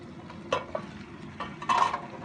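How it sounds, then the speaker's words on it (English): Soy sauce chicken wings being pan fried, a soft sizzle under a few light scrapes and stirring clinks of utensils against the pan. "Okay, now the pan fry, right here, okay?"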